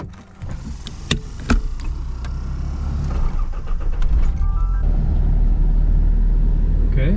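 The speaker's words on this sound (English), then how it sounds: "let's do another test drive" A Nissan project car on a test drive: a few door and interior clunks at first, then the engine and road rumble building steadily and holding as the car moves off.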